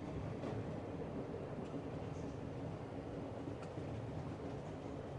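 A heritage 1949 solar-powered train at Byron Bay gives a steady, loud, close rumble of wheels and carriage, with faint clicks over the continuous drone.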